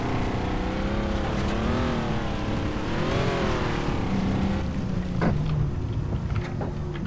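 Vehicle engine droning steadily while driving in Far Cry 3, with the engine pitch rising and falling as it accelerates and eases off, loud and close, followed by a few sharp clicks and knocks near the end.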